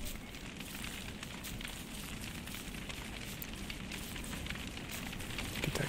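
A burning torch in the video game Don't Starve makes a continuous soft crackle and hiss. It stays at an even, moderate level throughout, with no one speaking.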